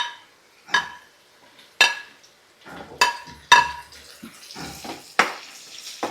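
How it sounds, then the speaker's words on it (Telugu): Onions tipped into a cooking pan while making a Telugu chutney-style dish, with sharp metallic clinks of utensils against the pan at irregular intervals over a soft background rustle. "ఇప్పుడు మనం ఆనియన్స్ ఆనియన్స్ కూడా వేసేద్దాం"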